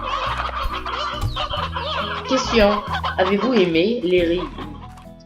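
Chickens cluck and chortle continuously in the Slime Rancher video game. The fowl sounds are fairly loud and busy, and someone speaks French briefly over them.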